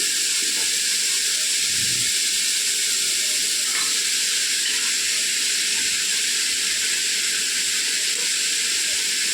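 Cabbage and capsicum frying in a pan for vegetable fried rice give a steady, bright hiss and sizzle that runs unbroken throughout, close and even, with no talk over it.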